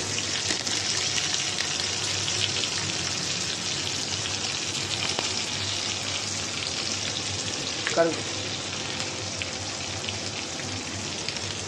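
Cumin powder and turmeric are stirred into ginger frying in a pan, a constant dense sizzle throughout with a brief scrape of the spoon partway, no voices.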